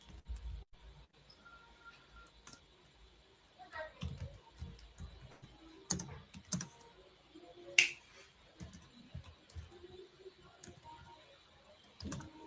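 Light, irregular clicks of a computer keyboard as code is typed, faint and close, with small bursts of keystrokes and occasional sharper taps under a quiet room.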